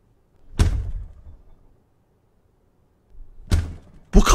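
A door bangs in a horror video game, giving two heavy low thuds with short rumbling tails, then a third sharp knock starting, all without speech.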